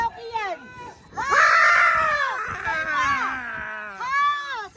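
A young child shrieks and screams in long, loud, strained bursts while riding the Super Viking at Sky Ranch, with an adult voice urging and shouting in between.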